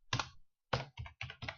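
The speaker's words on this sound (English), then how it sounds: "I'm typing" Typing on a computer keyboard: a close, crisp burst of key clicks, a short pause, then three more quick rapid clusters of clicking.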